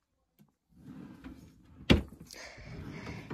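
A bedroom dresser drawer slides and bumps shut with one sharp knock midway, surrounded by soft rustling and handling noise close by.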